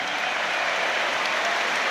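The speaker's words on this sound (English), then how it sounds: "they are being applauded, a standing ovation for them" Football stadium crowd at a Premier League match between Aston Villa and Newcastle United, applauding substituted players with a steady, dense wash of clapping and cheering that fills the whole moment without a break.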